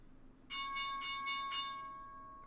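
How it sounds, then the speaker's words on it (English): A trading-day opening bell rings in a rapid series of about five bright metallic strikes, then leaves a sustained ringing tone that slowly fades, clear and fairly close with no talk over it. "here's the bell"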